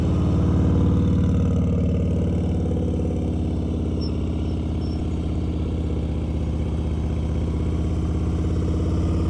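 Motorcycle engine running steadily at low speed during slow-speed riding drills, a constant loud mid-pitched thrum with a rhythmic low pulse, close by and uninterrupted, with no talking.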